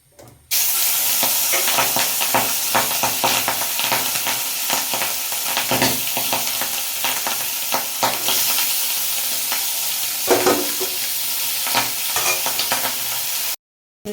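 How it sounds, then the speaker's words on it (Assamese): Steady loud sizzling of singhi fish frying in hot oil in a wok, continuous and close, with occasional scraping stirs, ending abruptly. "কেৰাহী পুৰা গৰম হৈ গৈছে এতিয়া মই মাছ বহাই দিম"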